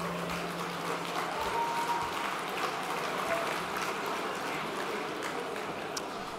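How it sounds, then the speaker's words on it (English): An audience at the 7th Asian Awards claps steadily in a broad, even wash of applause throughout, fairly distant and sustained. "So give yourselves a round of applause."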